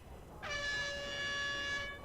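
A synthetic air horn sound effect from a World of Warcraft addon blares as a single sustained, bright horn blast of about a second and a half, clean and alone against a faint background.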